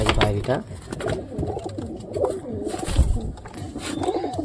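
A giribaj pigeon coos in low, throaty, repeated calls close by, heard under a person talking nearby.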